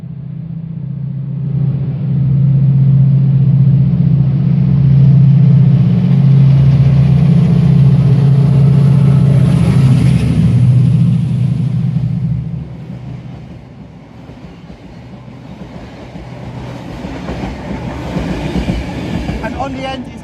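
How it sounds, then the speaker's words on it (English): Class 68 locomotive 68014 hauls Mark 3 coaches past the platform at High Wycombe station, a loud, close diesel rumble and rolling rail noise that swells, holds, then drops to a lighter clatter as the train moves on. "It's a 68014 hauling the new Mark 3s"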